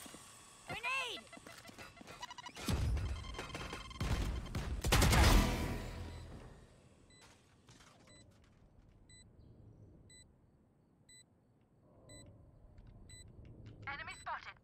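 Gunfire and ability blasts in Valorant, a tactical shooter match: a dense burst of shots and explosions early on, then quieter game beeps and interface tones, with voice callouts heard throughout.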